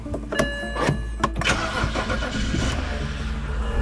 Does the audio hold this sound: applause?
no